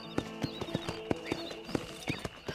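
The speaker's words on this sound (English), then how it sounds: "I like watching the horses walk. It's really soothing." Horse hooves clip-clopping at a walking pace in the Red Dead Redemption video game, a steady run of about a dozen distinct close hoofbeats, fairly quiet with no talking.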